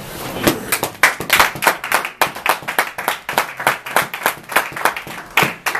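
Church congregation clapping in worship, a steady rhythmic run of many hands beating together in time, moderately near and continuous with no speech over it.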